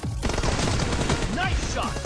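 Gunfire in a PUBG team deathmatch, heard as dense, rapid overlapping bursts of shots that run continuously at close, loud range.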